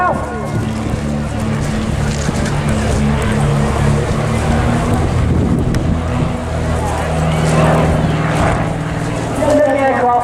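Aircraft droning overhead at the Eastbourne Airshow 2018 ahead of a parachute display, a steady broad engine hum filling the air throughout, with a commentator speaking over it.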